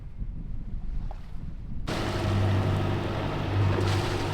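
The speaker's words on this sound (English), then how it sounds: "Coming across the north coast of Sicily. Motor sailing." A sailboat motor sailing off the north coast of Sicily: wind and water rush at first, then a steady engine drone with a low hum takes over, continuous and fairly loud, with no voices.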